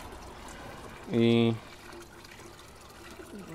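Well water pumped from a deepened well pours into a watering can outdoors, a steady splashing trickle with a short tonal squeal midway, fairly close and moderately loud.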